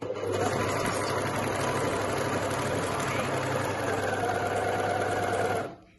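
An overlocker stitching fabric with its presser foot lowered, a rapid, even mechanical whir running close and steady for several seconds before stopping abruptly.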